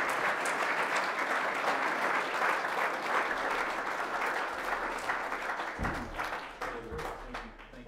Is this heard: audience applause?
yes